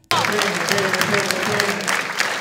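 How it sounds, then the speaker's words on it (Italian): Dense clapping from a crowd, loud and continuous, starting abruptly and holding steady throughout. "la cosa più bella sono gli applausi"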